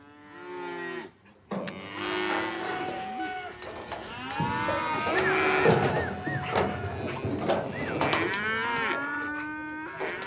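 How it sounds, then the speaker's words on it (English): Yearling cattle on a Texas Panhandle ranch near Amarillo lowing in a loud, overlapping chorus, several animals mooing one after another close by with farm background noise. "Jos Halsell, the foreman here, brands the young cattle."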